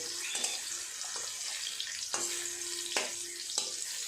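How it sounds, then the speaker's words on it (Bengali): Pumpkin slices fry in oil with a soft, even sizzle, broken by a few light clinks and scrapes as the pieces are turned over; fairly quiet, with no talking. "উল্টে অপর পিঠটাও ভেজে নেব"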